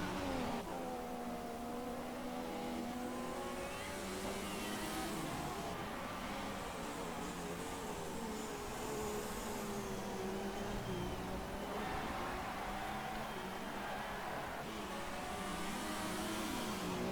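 Race car engines whine steadily in F1 2016 during a final lap, a continuous high-pitched drone rising and falling through gear changes, heard alone at moderate volume.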